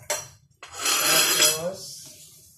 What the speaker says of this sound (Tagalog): Dalawang itlog. Babatin lang natin ng konti.